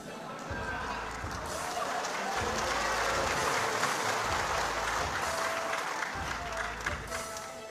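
A crowd applauds at a politician's political talk, dense clapping that stays loud and sustained from start to finish, with low rumbling underneath and a voice briefly heard over it.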